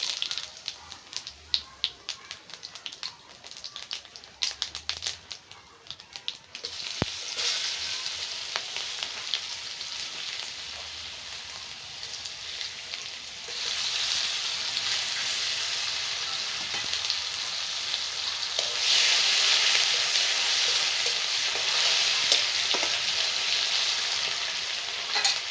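Spices and bay leaf hit hot oil in a pot for a mutton malai curry, starting with scattered taps and crackles before a loud, continuous close sizzle builds and swells.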